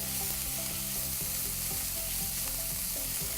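Onions cooking in a pan for turkey tacos give a steady, close, even sizzle for a few seconds, with a low sustained tonal backing underneath and no talking.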